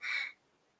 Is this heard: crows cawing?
yes